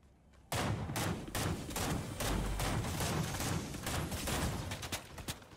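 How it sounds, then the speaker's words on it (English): Fortnite gunfire erupts as a dense, continuous volley of overlapping shots, sharp cracks layered over a rumbling low end, sustained and fairly loud for several seconds with no talking. "Oh, they're shooting."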